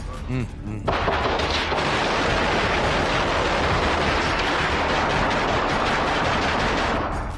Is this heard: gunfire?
yes